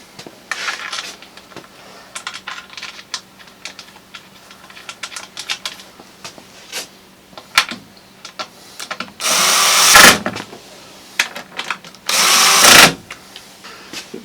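A power driver sinks screws into a router plate set in a router table built into the wing of a Ridgid R4512 table saw. Two short, loud whirring bursts stand out over quiet workshop clicks and handling noises.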